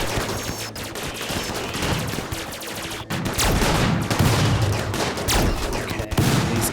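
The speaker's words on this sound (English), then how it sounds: "we're gonna be shooting at rats on our way out of the ship" Rapid bursts of gunfire from the RimWorld game with the RiftWorld mod as colonists shoot at a rat infestation inside a ship, dense overlapping volleys continuing for several seconds with a brief gap midway.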